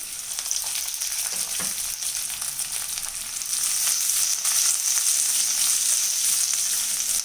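Green chili, ginger and curry leaves sizzle steadily with chicken in a pan for chicken perattu, a dense continuous frying hiss that grows louder partway through, with a few faint stirring knocks and no talking.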